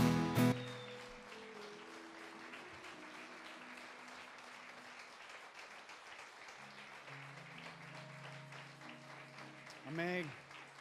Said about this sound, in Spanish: yo quiero que le dé un fuerte aplauso a Cristo